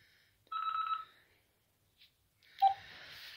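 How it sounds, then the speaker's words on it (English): A home telephone rings in a quiet house: one short electronic ring burst, then a faint blip and a second ring starting, close and clear with no talk. "That's all I need is a phone to wake up the house."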